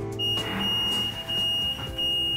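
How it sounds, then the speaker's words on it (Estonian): Electronic beeping inside a new battery electric city bus, a steady high-pitched tone that sounds through the cabin with short interruptions, fairly close, with no talking. "Midagi piiksub"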